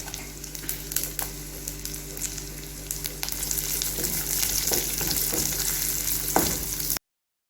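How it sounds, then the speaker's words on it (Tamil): Green chillies sauté in hot oil in a pan for spicy green chilli chicken. A strong, continuous close-up sizzle runs throughout, broken by scattered clicks and scrapes of stirring. "இது நல்லா ஒரு 2 நிமிஷம் வதங்கி வரட்டும். அது வரைக்கும் நல்லா வதக்கி விட்டுக்கலாம்."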